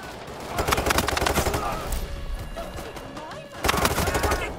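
Sustained automatic gunfire in a Payday 3 police shootout on Xbox Series X/S, rapid bursts throughout, loudest at the start and again near the end, with faint voices underneath.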